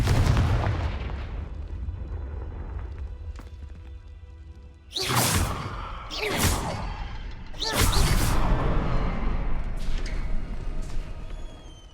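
In Hogwarts Legacy, Confringo blasting spells go off as several sharp, booming explosions with whooshing hits in quick succession over a steady game background.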